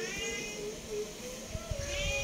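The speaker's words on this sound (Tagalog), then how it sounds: "nangingi na yung aking pusa" A house cat meows at mealtime in a home kitchen, with a few drawn-out, wavering cries over a steady background hum and some clatter.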